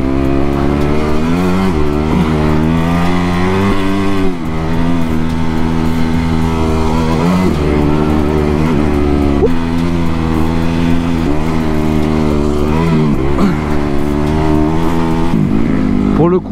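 Motocross dirt bike engine revving continuously while riding off-road, a loud droning buzz with rising and falling pitch as the throttle opens and closes, close and steady throughout.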